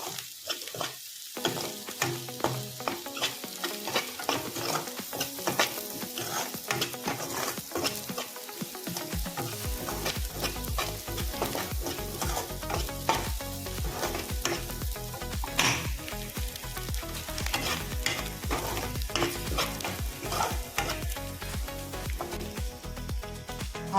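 Onions frying in hot oil in a pan with a spice paste of ginger, garlic, cumin and coriander for a Telugu egg curry, a steady loud sizzle with repeated scraping stirs throughout and no talking.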